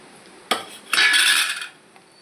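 Metal utensil scraping and clinking in a pan while chana dal, toor dal, mustard seeds, cumin and two dried red chillies are stirred for a tempering; a sharp clink, then a longer rasping stir, close and fairly loud.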